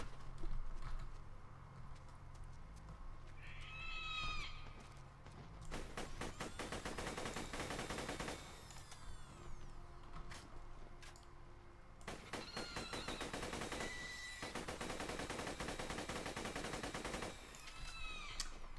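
Gunfire in Borderlands 2, long rapid automatic bursts crackling loudly in several stretches, separated by brief gaps with softer game effects and clicks.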